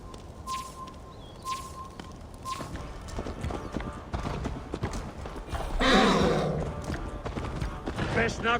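Hooves clop in a quick galloping rhythm in the video game Assassin's Creed: Valhalla, joined later by a louder rush of hoofbeats and a horse's snort, with voices talking over it.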